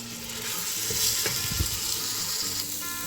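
Tomato cooked with small teteshi fish sizzles in a pot under continuous stirring, a close, steady frying hiss with soft scraping and a low thump or two.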